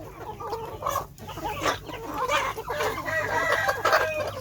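A Thai black-tailed Pradu fighting rooster crows loudly and close while chickens cluck around it, with a steady farmyard murmur underneath.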